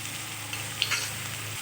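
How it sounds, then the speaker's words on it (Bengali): Spices sizzle steadily in a pan with dried chilli and cumin paste for a Bengali mocha ghonto, a banana blossom curry, with a brief stirring scrape partway through, close and continuous with no talk. "দিয়ে আরও কিছুক্ষণ ভালোভাবে নেড়ে চেড়ে কষিয়ে নেব"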